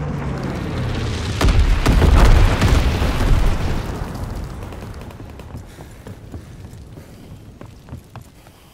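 Low-altitude bomber airstrike in Call of Duty WWII, a loud booming cluster of explosions peaking early, then a long rumbling decay with scattered crackles.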